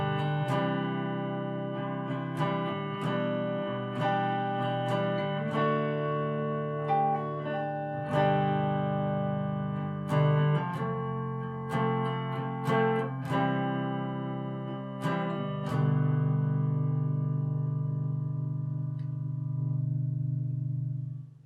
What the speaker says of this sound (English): like a clean guitar